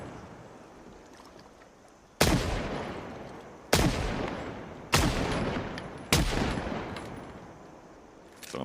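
Four loud, sharp gunshots from a video game battle, each with a long booming decay, spaced about a second apart over quiet background hiss, with a fifth starting at the very end.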